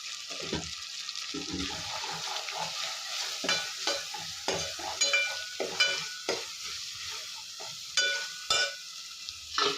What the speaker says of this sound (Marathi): ती मी यात फ्राय करत आहे